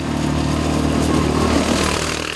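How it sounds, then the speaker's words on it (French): A KYMCO MXU 700 quad's 46-horsepower engine turns over smoothly at low revs, a steady, close rumble heard alone. "le moteur est d'une onctuosité exemplaire à bas régime et permet d'évoluer lentement sans le moindre à-coup"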